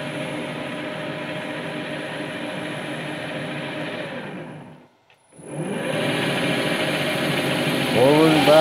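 A Smithy 3-in-1 lathe mill machine runs with a steady mechanical whine and hum, stops briefly into near silence, then starts back up with a rising whir; a person talks nearby.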